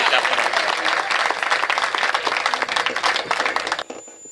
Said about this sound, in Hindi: एक बार मुझे ढंग की थोड़ी सी तालियां बजाकर आगे से पीछे शुरू